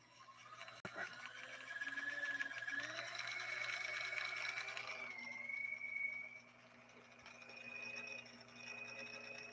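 A Pfaff 1222E sewing machine runs under its foot controller, motor whining upward in pitch as speed builds, then easing and settling, a quiet continuous mechanical hum alone in the room.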